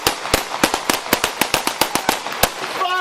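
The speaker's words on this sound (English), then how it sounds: "shots fired by police" Police gunfire during a bodycam-recorded shooting: a rapid volley of about fifteen sharp, loud shots fired in quick succession, followed by a brief shout at the end.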